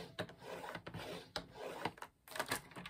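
A pencil scratches lines on A4 paper for a gift pouch, faint rasping strokes in quick uneven bursts with brief pauses.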